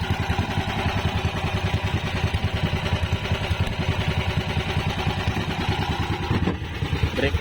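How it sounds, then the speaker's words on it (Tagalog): A new engine runs steadily during break-in after going a full day and night, its dense, rapid mechanical clatter and low putter sounding close and loud throughout, with no talk over it. "Ito yung bagong makina."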